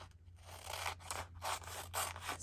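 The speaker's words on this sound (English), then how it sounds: "And so I need my scissors." Scissors snip through strips of paper in a few separate crisp cuts, each a short rasping slice, close by and fairly quiet over a low steady hum.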